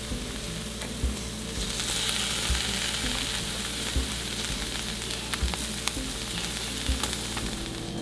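Halloumi cheese frying in a pan gives a loud, dense, steady sizzle, with occasional soft clicks and taps from the pan and no talking.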